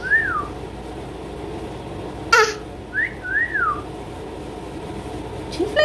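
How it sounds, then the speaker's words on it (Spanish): A person whistles at home in a family kitchen, several short rising-and-falling melodic phrases with pauses between, fairly close over a low room hum, with a brief sharp knock partway through. "Chiflales a las muchachas."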